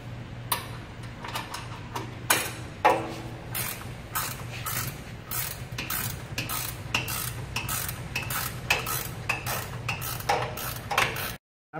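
A ratchet or crescent wrench loosening bolts while removing an F70L outboard, sharp repeated clicks in quick bursts, close and distinct, with no speech.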